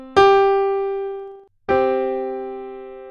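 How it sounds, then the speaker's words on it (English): A perfect fifth interval of tones in a 3-to-2 ratio, played as two clean plucked notes one after the other, each with a sharp attack and a slow decay, loud and isolated. "The perfect fifth is made up of 7 half steps,"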